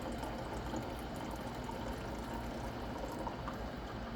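Liquid pours steadily from a Stanley Adventure All-In-One Boil + Brew French press, a continuous soft splashing stream lasting a few seconds, fairly quiet and close, with no talking over it.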